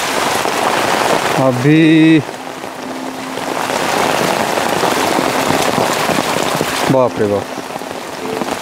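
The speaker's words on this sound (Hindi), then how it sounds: "बारिश अच्छी हो रही है आज" Steady, heavy rain pours down nearby in a dense hiss, with a voice breaking in twice.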